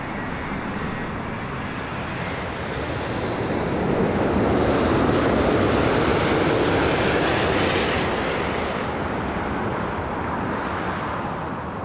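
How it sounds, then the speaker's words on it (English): An Air Canada airplane departing Toronto Pearson airport, a broad roaring engine rumble that swells to a peak midway and holds steady, heard from a distance outdoors. "Departure Air Canada 267"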